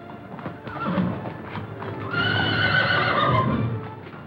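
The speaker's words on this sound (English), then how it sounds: "Best horse I ever owned." A horse in a 1937 period film neighs and whinnies loudly while its hooves clip-clop steadily on the ground, with the calls growing stronger in the second half.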